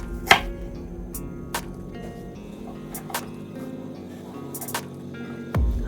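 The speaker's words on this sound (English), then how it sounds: "We'll also cut the onion." Knife strokes through an onion on a board while cooking chicken jollof rice: a few sharp, isolated chops spaced a second or so apart, close and fairly crisp, with quiet pauses between them.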